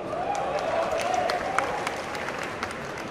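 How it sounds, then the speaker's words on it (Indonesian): Audience applause at a stand-up comedy roast of the Indonesian national police held before the police chief: dense, steady clapping fills the whole stretch at an even level, with a few sharper claps standing out. "Tepuk tangan dulu sekali lagi."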